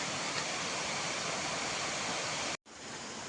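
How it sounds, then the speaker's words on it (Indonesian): Waterfall beside a gravel cycling trail in Bone, a steady loud broadband rush of falling water filling the whole clip, cutting out for a split second near the end before resuming. "ada air terjunnya, Cok."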